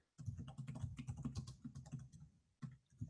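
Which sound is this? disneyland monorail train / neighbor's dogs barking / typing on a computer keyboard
typing on a computer keyboard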